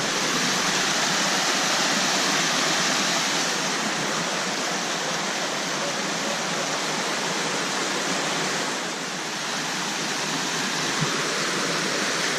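Steady rushing of a hilltop creek at Frog Flats on the Overland Track in Tasmania, loud and continuous throughout with no voices.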